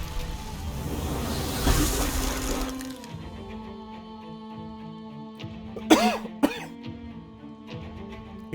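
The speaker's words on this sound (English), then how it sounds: "Excuse the coughing." A person coughs twice in quick succession, close and fairly loud, against a steady background of fantasy role-playing game music.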